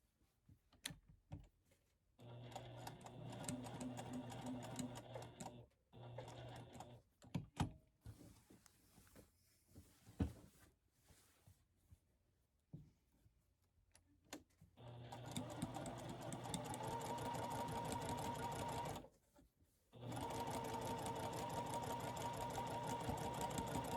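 A sewing machine top stitches along the edge of a batik linen tunic, running in long steady whirring bursts with brief pauses and quiet handling sounds between them, close and clear.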